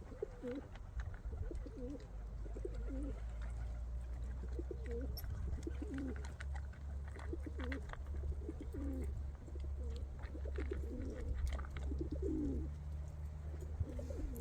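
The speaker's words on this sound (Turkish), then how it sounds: "Kuşlarımız da var." Pigeons or doves coo in a forest during an outdoor feeding, their soft repeated calls rolling in a steady rhythm over a low constant rumble, fairly close, with no talking.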